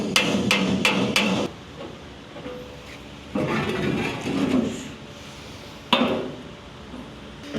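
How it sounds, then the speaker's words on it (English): A hammer strikes metal against a dolly while flattening the bolt flange of a car's transmission pan, a quick burst of four or five sharp ringing blows, then a pause, a rougher scraping stretch, and one last clank. "I just got a hammer and dolly, and I'm gonna hammer around where the bolts were to help level it out"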